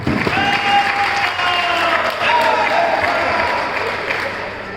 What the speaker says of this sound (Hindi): तो जोरदार तालियों से पहले स्वागत कीजिए सारे नेता का।